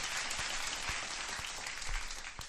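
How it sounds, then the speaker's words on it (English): Continuous crowd applause for a birthday celebrant during a UFC betting livestream, a steady wash of clapping with faint low thumps pulsing underneath and no talk. "Round of applause."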